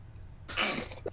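A single short, sharp sneeze bursts out close up, followed by a brief trailing breath, in an otherwise quiet room.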